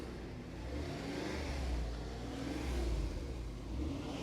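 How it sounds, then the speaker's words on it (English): An original 1992 Mercedes-Benz 500SL is revved, its engine rising and falling in a steady, low, rumbling drone with a couple of swells, fairly quiet and heard alone without talk. "rev the engine for me"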